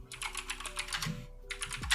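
Quick bursts of computer keyboard typing, crisp close clicks in rapid runs with a short pause near the middle, alone and fairly quiet.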